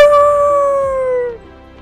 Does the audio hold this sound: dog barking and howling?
yes